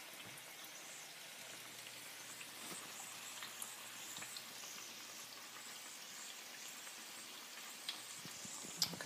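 Buffalo fish ribs fry in hot grease with a steady, faint, rain-like crackle and scattered tiny pops. No one speaks over it.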